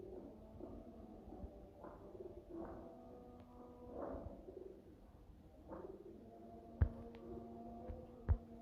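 Main breeder pigeons, prized birds of a fancier from Laliani, cooing in repeated soft rolling phrases close by, with low hum in the background and a couple of sharp knocks near the end.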